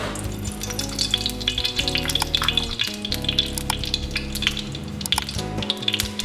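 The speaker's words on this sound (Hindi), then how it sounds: "उसके बाद जो हरी मिर्चें मैंने फिलअप की थी मसाले से वो डाल दूंगी मैं" Hot cooking oil frying masala-stuffed green chillies in a pan for Hyderabadi masala hari mirch: a continuous, fairly loud sizzle with scattered sharp pops, set against a steady tonal hum throughout.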